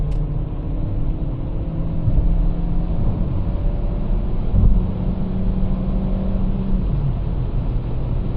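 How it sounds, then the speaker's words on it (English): A 2024 Dacia Duster Hybrid, 140 HP with a four-cylinder engine, accelerating at full throttle on a night drive, heard from inside the cabin as a loud, steady engine drone and road rumble. "I'm going to floor it all the way."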